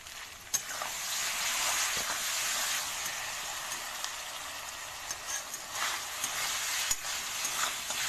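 Paneer masala is stirred and fried in a pan, a close, steady sizzle with intermittent scraping and stirring knocks, no talk.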